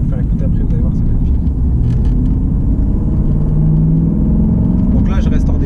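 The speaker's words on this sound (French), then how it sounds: "On va faire une petite accélération. Sur la petite ligne droite là-bas là" A 400 hp car pulls hard on a short straight, its engine a loud, steady low rumble that swells slightly as it accelerates, with someone talking over it throughout.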